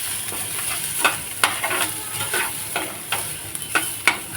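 Onions frying with turmeric and red chilli powder, stirred in a pan: loud, close sizzling with repeated scraping strokes of a spoon at an uneven rhythm.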